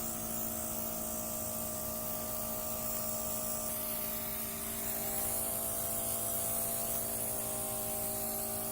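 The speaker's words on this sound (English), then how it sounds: "Hold your breath for 1 second for me. I'm going to spray over your nose." Steady hissing spray of SFX makeup misted over a person's nose, continuous and close, with a faint background hum throughout.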